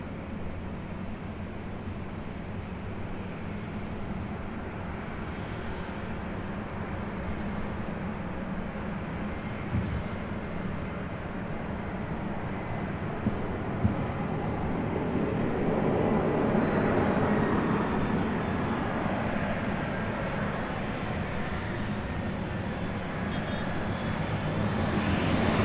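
A United Express SkyWest Embraer E175 jet lands at LAX on the north side, its engines roaring as a long, steady rumble that swells and brightens as it passes close, with no talk.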